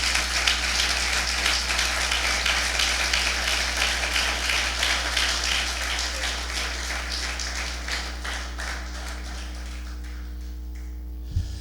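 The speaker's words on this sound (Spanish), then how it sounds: "denle un fuerte aplauso a Jesús" A church congregation claps for Jesus during a sermon, producing a dense, steady patter of applause that fills the room evenly before cutting off abruptly near the end.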